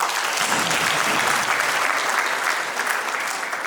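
An audience at a Kiswahili Day ceremony bursts into dense, sustained clapping, loud and even throughout with a slight easing near the end and no talk over it.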